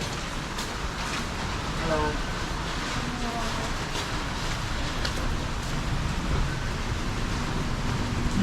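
Steady broadband rain hiss falls on a night street-food market in Penang, with a voice briefly audible partway through.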